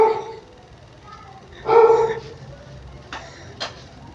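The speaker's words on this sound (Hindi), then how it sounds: "कुत्ता भौंक रहा है।" A dog barks a few times in the background of a quiet indoor lesson: one louder bark, then two sharper, shorter ones, with no talk over them.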